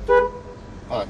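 Two short toots from a switchable stereo horn on a car, the first a brief bright honk and the second a quicker blip a moment later, close by and fairly loud.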